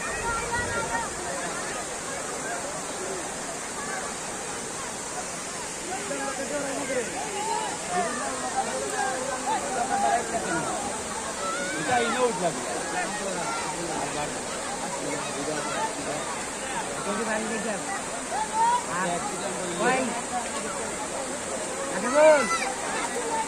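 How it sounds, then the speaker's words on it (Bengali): Jaflong's Mayabi waterfall during the monsoon, its stream pouring and rushing in a steady, broad wash of falling water, with a crowd's babble and scattered voices mixed in throughout. "আর এভাবে ঝর্ণার স্রোতধারা বইছে"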